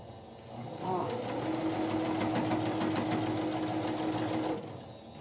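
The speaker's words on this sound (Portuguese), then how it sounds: "vamos fazer o vinco aqui e costurar de novo" Sewing machine stitching fabric strips for a patchwork rug, running in a steady, close, fast mechanical whir for about four seconds before slowing, with a voice talking faintly underneath.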